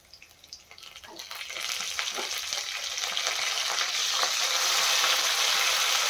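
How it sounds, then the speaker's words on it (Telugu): Green chillies and curry leaves fry in hot oil for jeera rice, the sizzle starting faint with a few crackles and then swelling into a loud, dense, steady hiss up close. "ఈ విధంగా వేసుకున్న కరివేపాకును కూడా బాగా ఫ్రై చేసుకోవాలి."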